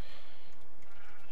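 Sheep bleating in breeding pens in the video game Minecraft, a short wavering bleat cry repeated two or three times, loud and close with no talking.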